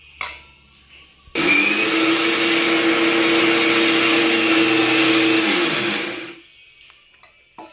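A kitchen mixer grinder grinds nuts and seeds for multigrain laddu in one loud, steady whirring burst of about five seconds that starts abruptly and winds down. Quiet room sounds come before and after.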